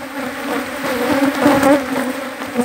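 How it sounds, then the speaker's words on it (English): A dense, close buzzing of many Africanized bees hums loudly and continuously, the drone wavering slightly in pitch and intensity. "This is what has happened when you have Africanized bees."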